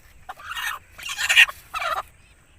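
An Aseel hen calling nearby in three short, harsh, raspy bursts, each lasting about half a second with brief pauses between, loud and close with no talking over them.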